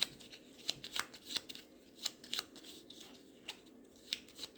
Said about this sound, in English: shuffle our discard back into our main deck